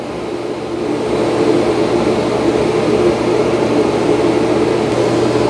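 A loud, steady mechanical whir with a low hum, starting a bit softer then rising to a constant suction roar of a Dreame L20 Ultra robot vacuum dock auto-emptying.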